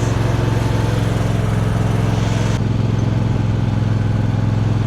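A Murray Select riding mower that has sat unused for a year runs steadily and loudly up close, its engine droning continuously at an even pitch with no voices.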